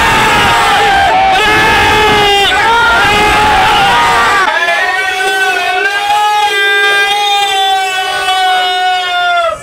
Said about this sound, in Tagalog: Gusto ko muna marinig ang pinakamalakas na sigaw